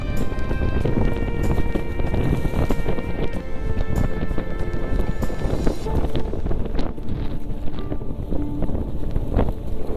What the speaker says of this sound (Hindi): बिजली कड़क रही है, बारिश हो रही है, तूफान चल रहा है